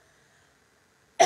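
A woman with a lingering cough lets out one short, sharp cough right at the end, close and sudden after near silence.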